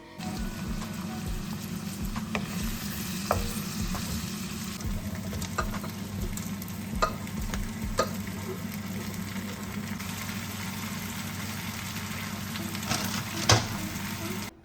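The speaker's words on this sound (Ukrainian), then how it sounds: "нарізаю цибулю і буду тушкувати" Steady sizzling of onion stewing in a pan, with occasional clinks and scrapes of a utensil stirring, close and continuous.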